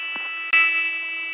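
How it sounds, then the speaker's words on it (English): An AS350 helicopter's hydraulic failure warning in the cockpit: a steady high electronic tone sounds continuously, with a soft click and a brief sharp tap near the start and a low hum beneath. "if you have a hydraulic failure, it's going to sound like this"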